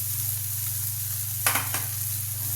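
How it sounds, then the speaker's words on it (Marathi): A tomato masala with red chilli, black chilli and turmeric is stir-fried in a pan, giving a steady low sizzle under a constant hum, with a brief clatter of stirring about halfway through; no one talks. "एकदा परतून घ्यायचं. दोन मिनिटं याला पण छान शिजू द्यायचा."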